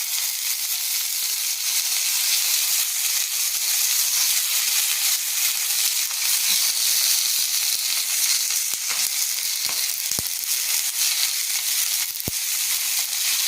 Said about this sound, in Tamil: நம்ம வந்து கடுகு எண்ணெய் யூஸ் பண்ணிவிட்டு இப்போ வெண்டைக்காய் வைக்கிற பாருங்கள்.